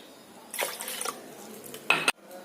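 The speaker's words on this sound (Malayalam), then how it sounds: "ചക്ക വേകാനായിട്ട് ഒഴിച്ച് വെക്കുന്നു" Water poured from a glass into a cooking pot of jackfruit, with a short splashy pour followed by a brief, louder gush before it stops, close and quiet otherwise.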